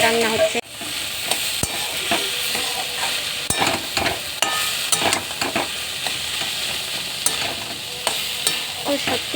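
Banana flower (mocha) with potatoes frying and being stirred in a pan: a steady loud sizzle with frequent scraping stirs and clinks of the spatula, close up, with no talking.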